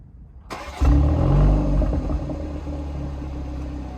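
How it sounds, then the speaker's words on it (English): A BMW 3 Series engine cranks and fires up after a moment of silence, swelling into a loud, close rumble with a brief rev flare before settling into a steady, slightly fluctuating idle. "Now this is what the car sounds like on regular startup."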